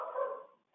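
A single dog bark heard over a phone or computer line during an online webinar, brief, muffled and band-limited, fading quickly into silence.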